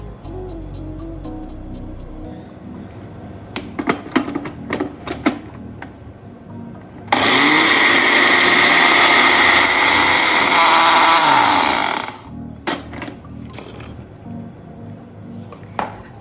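An electric grinder whirs loudly for about five seconds as it mills ajwain (carom seeds) into powder, a dense, steady roar that cuts off abruptly, framed by light clinks and kitchen handling noises.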